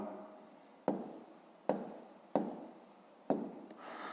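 A pen writing on paper during a fifth-grade maths exercise, with four distinct stroke bursts at steady intervals, each starting sharply and trailing off, close and quiet with no talking.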